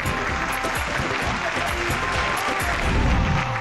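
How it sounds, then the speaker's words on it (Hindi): A studio audience at a Hindi television poetry show claps hard in a thick, continuous wash of applause, with a low murmur beneath it. "एक बार जोरदार तालियां बजाइए"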